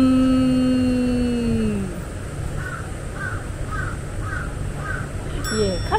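Crows cawing at a farm in Yokohama give a regular series of about six short, moderately distant caws over a steady background hum, after an earlier sustained tonal call.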